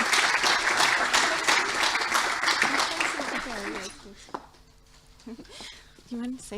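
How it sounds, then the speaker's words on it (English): Audience applause at a graduation and opening ceremony, a dense sustained clapping for about four seconds that fades out, followed by quiet room noise and brief talking. "So please give a round of applause to Lara"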